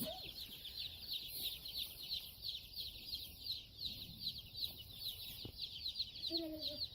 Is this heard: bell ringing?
no